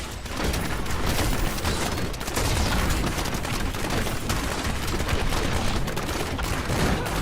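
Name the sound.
grenade explosions in the video game Diablo 3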